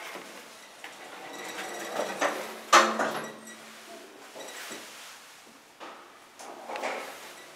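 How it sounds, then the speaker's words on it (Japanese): Sliding doors of an apartment-building elevator in Tomakomai closing, a soft rolling slide with a brief thump near the middle, close by in a quiet car with light background noise. "ドアが閉まります。"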